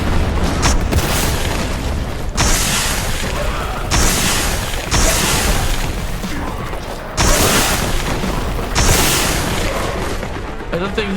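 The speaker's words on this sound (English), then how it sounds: "I threw a freaking grenade at you, knucklehead." Heavy grenade blasts boom through a Warhammer 40K Boltgun battle, several loud deep explosions landing in bursts amid constant gunfire and combat noise.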